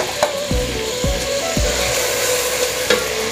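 Whole garam masala and chilli flakes fry in hot oil in a pan for chicken pulao, a steady close sizzle with a few scraping stirs of a spoon across the metal.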